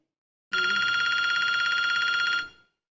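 A telephone rings with a loud, steady electronic trill that lasts about two seconds and then cuts off, heard close and alone.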